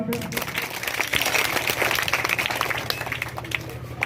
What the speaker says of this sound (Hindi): इन बच्चों के लिए एक जोरदार ताली बजा दें।